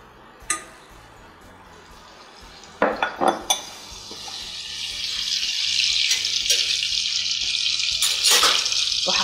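Butter and garlic hit a hot pan with a few sharp clinks of utensils, then a steady hiss of sizzling builds and holds, with occasional scraping knocks of stirring.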